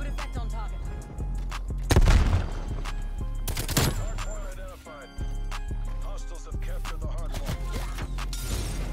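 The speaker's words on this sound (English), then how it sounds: "So much shooting going on" Dense gunfire from many weapons, including suppressed shots, crackles through a multiplayer shooter match with an M60 in play, bursts and booms overlapping almost continuously while a player talks over it.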